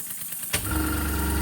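A Microcosm V-twin oscillating steam engine starts running with a click, then settles into a steady, close hum with a fast even rhythm that carries on without pause.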